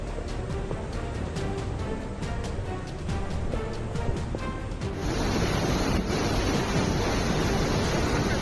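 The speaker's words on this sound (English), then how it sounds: "The roaring flood sounds like a warning from nature itself." Flood waters after extreme rainfall in Volos, Greece rush through city streets with a continuous broad roar, steady at first with rhythmic ticking, then growing fuller and louder partway through.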